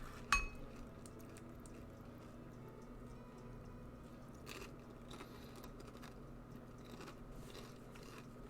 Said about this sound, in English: I'm gonna move the mic a little bit away so you don't have to hear my chewing